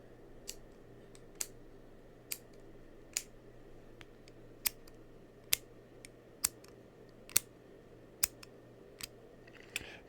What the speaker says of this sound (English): So when you are done writing, push the clip and it retracts.